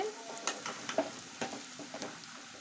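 Onion pakoda being stirred in hot oil in a kadai that wobbles on the stove, with soft scraping clicks and light sizzling at a low level, no talk.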